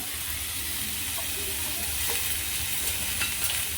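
Amla chutney mixture with a pinch of asafoetida being stirred and roasted in a pan on a gas stove: a steady, fairly close hiss of sizzling with soft scraping strokes, no talking.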